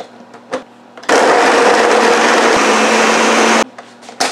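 A blender grinds coconut with milk for a ginger cremasse, roaring loudly and steadily for about two and a half seconds before cutting off, with quieter kitchen handling sounds before and after.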